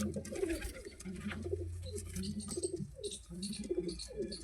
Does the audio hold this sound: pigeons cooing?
yes